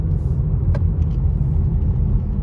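A Stater's truck labouring up a snowy mountain road near Stanfield Cutoff in Big Bear, California, a steady low engine rumble with a brief hiss, heard from a passing vehicle at night.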